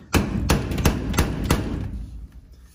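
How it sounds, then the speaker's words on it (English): A center punch is struck with a hammer against rivets on the aluminium shell of an Airstream trailer, making five or six sharp, close metallic knocks in an uneven rhythm that ring briefly before fading. "But for these rivets, I like to come in with a center punch."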